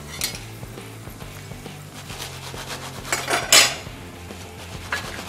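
Crispy potato pakoras being turned and lifted in a frying pan, giving repeated metallic scrapes and clinks of utensil against pan along with a brief sizzling burst, close and fairly loud, with no talking.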